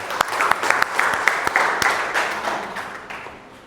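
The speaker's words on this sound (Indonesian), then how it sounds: "Kita akan beri aplaus untuk Mbak siapa?" Applause from a class of students for a classmate during an eleventh-grade Islamic ethics lesson: a burst of clapping with a few sharper claps, fading steadily over several seconds with no talk.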